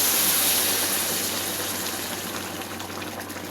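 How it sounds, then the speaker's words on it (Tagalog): Broth pours steadily into a pot of sotanghon noodle soup, a continuous close gushing splash that slowly softens. "Damihan ko na yung sabaw"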